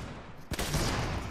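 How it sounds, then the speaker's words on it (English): A single sharp shot from a suppressed sniper rifle cracks in Fortnite, a brief close burst followed by a lingering rumble of game noise. "No, I have a suppressed sniper rifle!"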